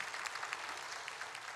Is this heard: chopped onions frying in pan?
no